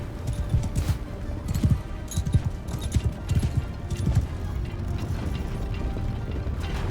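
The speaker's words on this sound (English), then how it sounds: "If I can move my horse around." Horse hooves clip-clop in the medieval battle game Mount & Blade II Bannerlord, a steady close run of irregular thudding footfalls that fades toward the end, with faint background ambience and no talk.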